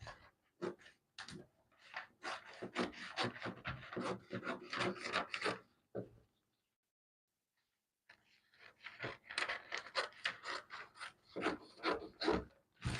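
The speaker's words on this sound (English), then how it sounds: "So I'm cutting this out now and then I want to cut out the yoke." Scissors or a cutter work through a paper bustier sewing pattern in close, scratchy bursts of rapid snipping and rubbing, broken by a silent pause partway through.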